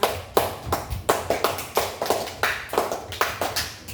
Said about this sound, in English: Give Karim a clap.